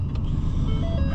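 A pickup truck driving along, with a steady low engine rumble and road noise heard from inside the cab, loud and continuous with no talking.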